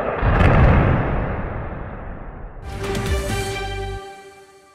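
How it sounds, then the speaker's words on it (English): A tall bridge in Germany is blown up in a controlled demolition, a deep rumbling blast that rolls on and fades, followed by a lingering low roar under a high tonal drone. "It was the first time ever a bridge of that height was detonated in Germany."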